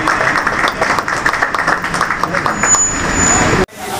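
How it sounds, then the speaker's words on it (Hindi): An audience at a bird society award ceremony applauds in a dense, continuous wash of clapping that stays loud and even before cutting off abruptly near the end; speech is mixed in beneath. "इनके लिए बहुत सारी तालियां होनी चाहिए"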